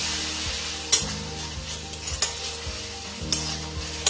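Masala with chili powder, sugar and a splash of water fries in a pan for a tilapia fish curry. A dense continuous sizzle sounds close, with the spatula scraping and clicking every second or so, and there is no talk.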